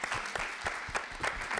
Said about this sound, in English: And a big applause to our panelists and to Helen